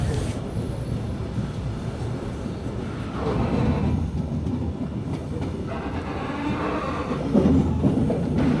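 ICE train pulling out of Hannover station on the run toward Berlin, heard from inside as a steady low rumble and rolling hum that swells slightly as it gathers speed.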